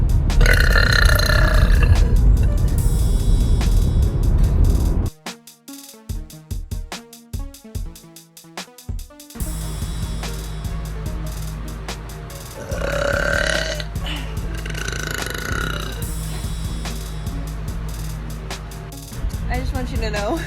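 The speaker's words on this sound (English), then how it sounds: "I'm burping in the car for TikToks." A girl sitting in a car lets out several long, deep, gravelly burps, close and loud, separated by short quiet gaps inside the car.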